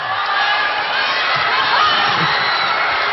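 A crowd roars and cheers through a women's volleyball match between Ateneo and FEU, a dense, loud wash of shouts and whoops that holds steady throughout.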